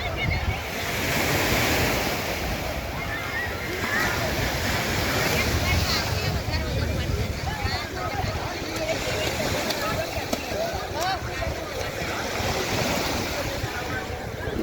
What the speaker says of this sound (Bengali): এখন আমি আছি রামেশ্বরম একদম সি বিচে, যেখানে সবাই স্নান করছে